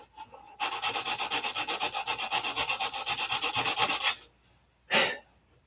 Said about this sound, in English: We'll sand this side too, I guess.